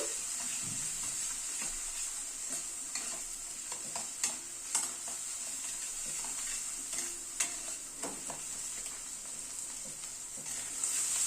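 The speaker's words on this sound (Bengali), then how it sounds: "গুঁড়ো মশলাগুলোকে দিয়ে এই মিনিট খানেক একটু নাড়াচাড়া করে নিলাম।" Ground spices, Kashmiri red chilli, turmeric and salt, fry in a pan while a spoon stirs them, giving a soft continuous sizzle punctuated by scattered scraping taps close by.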